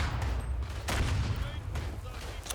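Battlefield 1 gunfire crossfire: a dense, continuous spread of rifle and machine-gun shots with scattered sharper cracks, loud and busy throughout, under a layer of voice.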